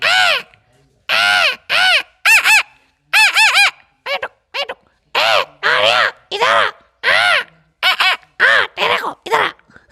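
A voice imitates a parrot, giving a long run of sharp, squawking chirps in quick separate bursts, loud and close, with no other talk.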